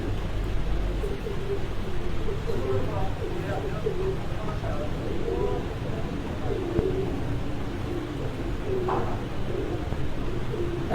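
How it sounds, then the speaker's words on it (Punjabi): Champion pigeons, including a grey Punjab champion bird, coo steadily at close range in a loft, their low burbling calls continuous throughout under a voice talking. "ਉਸਤਾਦ ਅਫਜ਼ਾਲ ਸਾਹਿਬ ਉਹਨਾਂ ਦੇ ਚੈਂਪੀਅਨ ਕਬੂਤਰ ਜਿਹੜੇ ਤੁਹਾਨੂੰ ਦਿਖਾ ਰਹੇ ਆ ਜੀ।"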